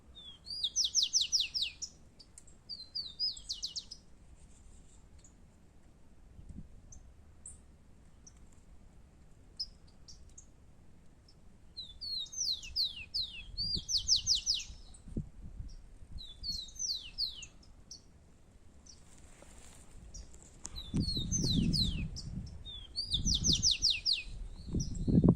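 Rufous-collared sparrows (tico-tico), a pair, chirping outdoors in nature in repeated short bright bursts of tweets, moderately near, with quiet gaps and some low rumbling background between calls.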